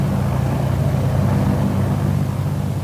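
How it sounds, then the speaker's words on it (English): A PBY Catalina patrol plane's engine runs steadily at 1700 RPM during a magneto check, giving a continuous low droning rumble with no breaks. "the pilot switches back to both magnetos and notes the return of the engine to its original sound and operation at 1700 RPM"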